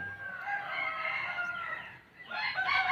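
A young Thai decoy gamecock, a red junglefowl cross, crows hoarse and drawn out, fairly close, followed after a brief dip by a second rougher crow starting.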